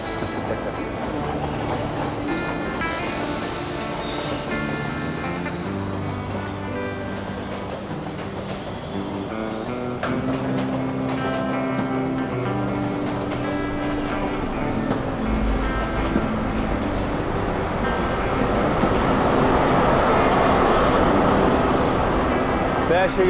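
An East Coast passenger train pulls away from a station platform, its engine and wheel noise building steadily and growing louder toward the end, with faint background talk.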